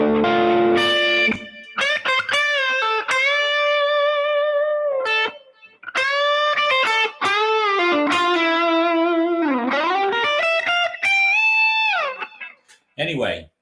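Overdriven electric guitar lead through a TS9 Tube Screamer pedal into a Blues Junior amp with reverb and short slapback delay: sustained bent notes and vibrato phrases with brief gaps, loud and close, no talking.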